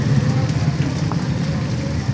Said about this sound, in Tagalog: Ayan, lakas pa rin ang ulan, no?